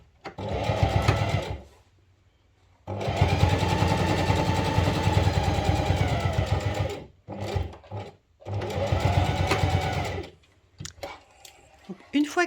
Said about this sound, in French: on va piquer tout du long, toujours à 1 cm de l'extrémité